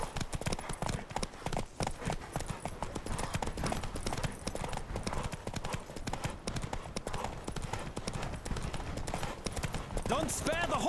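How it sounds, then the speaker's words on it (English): A horse gallops in The Witcher 3: Wild Hunt, with rapid, continuous clip-clop hoofbeats running throughout at moderate volume while people talk over the game. "Don't spare the horse!"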